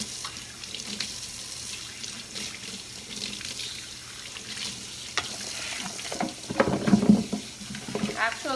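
Cold tap water runs steadily into a clean kitchen sink, a continuous splashing hiss that swells louder near the end, with no one talking.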